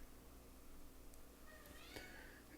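A domestic cat meows faintly in the background of a quiet room, a couple of short high calls rising over steady low hum.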